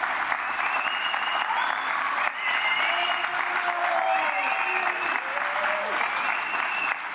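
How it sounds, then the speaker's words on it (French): A crowd at Les Sables-d'Olonne applauds Vendée Globe 2024 skipper Arnaud Boissière, sustained dense clapping from many hands heard outdoors, with faint tonal sounds and brief murmurs mixed in under the steady ovation. "Vous pouvez applaudir Arnaud Boissière"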